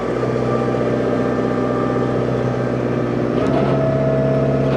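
A pickup truck towing a gooseneck trailer with black fenders and a 307 engineered beam pulls away, its engine a steady, moderately loud rumble that swells slightly near the end, with no talk.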